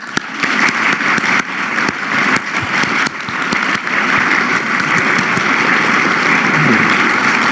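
Applause from an audience at a Mexican presidential morning press conference, steady and loud throughout, with dense clapping filling the room and a few sharper claps standing out.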